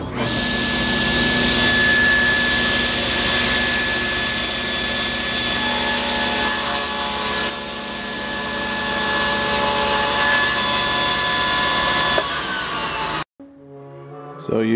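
Power saw on a crosscut sled squaring off cherry panels, a steady loud whine running for about twelve seconds before it cuts off and spins down, close and alone.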